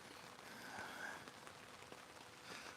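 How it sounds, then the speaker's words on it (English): Heavy rain pours outside a heated tent while camping in Michigan in a rain and snow mix, a steady dense hiss of drops on the fabric, continuous and fairly close, with no talking. "Can you guys hear the rain, how bad it is? It's pouring out there."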